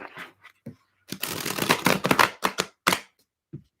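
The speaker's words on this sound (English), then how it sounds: "That was a good shuffle." Tarot cards being shuffled by hand: sharp riffling bursts and soft slaps in quick irregular clusters, close and fairly loud, with short quiet gaps between flurries and no talking.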